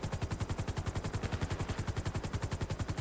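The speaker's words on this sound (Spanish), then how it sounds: "Disparos." Rapid automatic gunfire during a bank robbery in a town square, a fast steady burst of evenly spaced shots sounding somewhat distant and muffled, with no voices.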